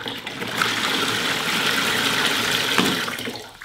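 Water gushing out of a plastic bottle as air is blown in through a straw, a continuous hissing, splashing rush that holds steady for a few seconds, then tapers off.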